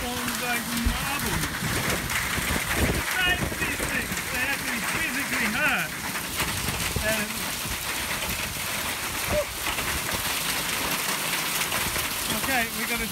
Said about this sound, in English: We've got hail storms like marble.